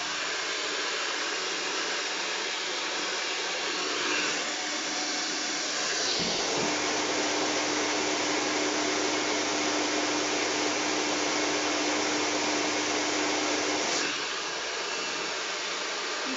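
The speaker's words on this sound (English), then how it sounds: "And I'm drying the hair right to the end." A hair dryer runs steadily at close range throughout while blow-drying hair, a loud continuous airy roar whose tone shifts slightly midway as the dryer moves along the hair.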